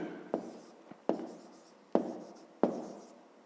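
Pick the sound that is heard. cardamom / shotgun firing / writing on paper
writing on paper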